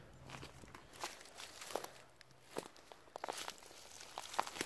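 Quiet, slow heel-first footsteps of a hunter crunching softly on dry leaves, a few deliberate steps spaced apart in an otherwise hushed outdoor setting.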